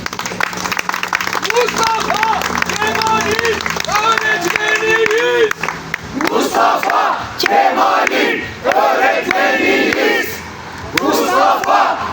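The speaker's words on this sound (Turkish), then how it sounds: "Ali öğretmenimiz, ve öğretmenimizi bir kez daha alkışlıyoruz" A crowd at a gathering in support of teachers applauds and cheers, with loud chanting voices and rhythmic clapping, shouts rising in waves over a noisy mass of people.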